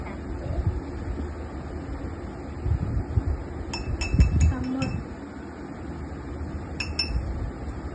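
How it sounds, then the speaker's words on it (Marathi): Ice cubes are dropped into two cups for cold coffee, making a few sharp glassy clinks in quick bursts, then another brief pair of clinks, under faint room noise and some talking. "आपण 2 कपमध्ये बर्फ टाकूया."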